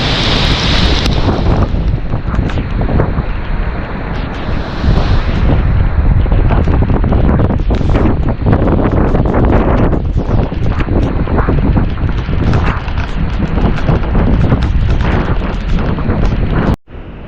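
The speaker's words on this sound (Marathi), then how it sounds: "पाऊस खूप आहे." Steady heavy rain roars continuously at Dhangar waterfall in Badlapur, mixed with strong wind buffeting the microphone, loud and close throughout.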